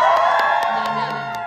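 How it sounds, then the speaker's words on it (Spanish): Concert crowd at La Mole 2024 cheering and whooping loudly and continuously, with high shouts that sound like children's voices over a dense roar and some singing or music underneath. "Así que aplauden muchísimo."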